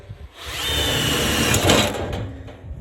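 A power drill starting a hole whines steadily for a couple of seconds as it bites into material, rising slightly before spinning down, close and loud.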